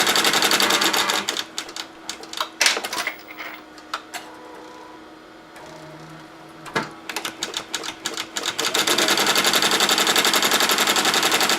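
Embroidery machine stitching an applique design, a loud, fast mechanical chatter of needle strokes that eases into a quieter stretch of separate ticks and clacks before resuming at full steady speed.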